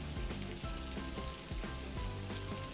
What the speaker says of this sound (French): Si vous avez bien chauffé votre huile, ça ne va pas prendre très longtemps à cuire